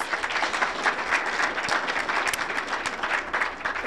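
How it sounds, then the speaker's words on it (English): A room full of people applauding, steady dense clapping that holds at an even level throughout without any cheering or voices standing out. "So let's give them a round of applause."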